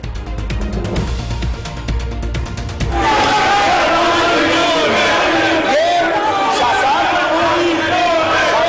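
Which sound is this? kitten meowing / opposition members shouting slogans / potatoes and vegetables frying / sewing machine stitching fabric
opposition members shouting slogans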